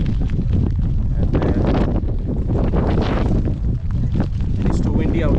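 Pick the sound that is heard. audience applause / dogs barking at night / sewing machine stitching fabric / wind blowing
wind blowing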